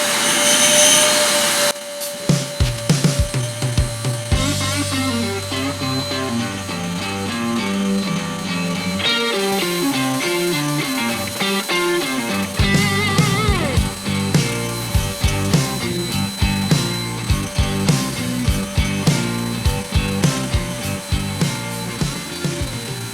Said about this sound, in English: So I'm actually gonna do the vacuuming first.